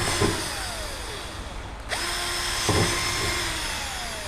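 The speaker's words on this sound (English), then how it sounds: "then you drill accordingly" A power drill whirs steadily up close, its pitch dipping and rising as it bites into PVC pipe, with a brief stop and restart midway.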